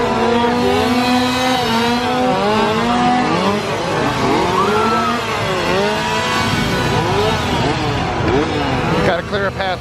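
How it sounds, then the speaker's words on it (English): Loud motorcycle engine revving in a crowded street during a Halloween event at Universal Orlando, rising and falling pitch held under continuous crowd noise. "You gotta clear a path for that motorcycle to drive 5 miles an hour."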